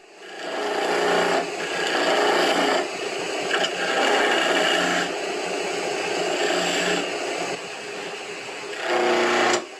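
A skew chisel cuts a cherry baluster spinning on a wood lathe, giving a steady whirring hum broken into repeated bursts of shaving hiss as the tool moves along the spindle.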